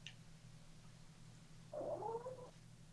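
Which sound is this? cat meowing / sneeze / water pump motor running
cat meowing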